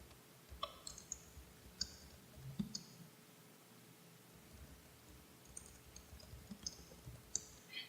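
Computer mouse clicks while setting up a new survey in training software, sparse, sharp and quiet, single clicks scattered irregularly over faint steady background hiss, with no talk.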